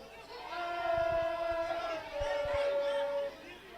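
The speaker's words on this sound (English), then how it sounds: "The crowd urging it on to go for the sticks." Rugby crowd at a Progress RFC versus Young Good Hope club match cheering and urging a long kick at goal, a steady roar of many voices rising and holding, with a whistle-like tone riding over it.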